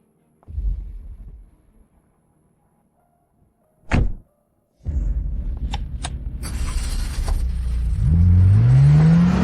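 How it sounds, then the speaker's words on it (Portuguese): A car door thunks shut, then the engine starts and revs, building into a loud, rising drone as the car pulls away. "Ah, Diretor Shen, entre no carro"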